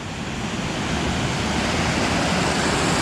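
Steady, loud roar of a horseshoe-shaped waterfall heard close by, a dense continuous rush of falling water with no talking.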